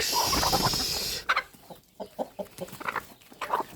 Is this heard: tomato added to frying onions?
no